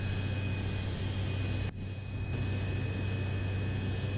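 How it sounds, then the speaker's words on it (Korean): Steady, loud broadband roar of a NASA Gulfstream G-III jet climbing steeply after takeoff from Osan Air Base, heard from inside the cabin as continuous engine and airflow noise with a brief dip partway through. "이륙 후 바로 가파르게 고도를 높입니다."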